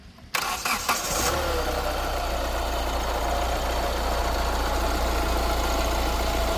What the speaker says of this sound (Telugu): ఇంజిన్ స్టార్ట్ చేసి చూపిస్తాను